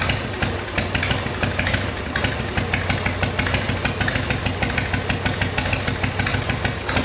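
Motorcycle engine fitted with a Harley-Davidson CV carburetor runs steadily up close, a loud, rough idle with rhythmic pulsing clatter throughout, no voices.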